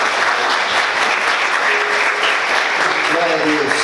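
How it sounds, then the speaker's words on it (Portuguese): A church congregation applauds loudly during a service, a thick continuous wash of clapping with a faint voice or tone emerging underneath near the end. "Vamos aplaudir Jesus em forte"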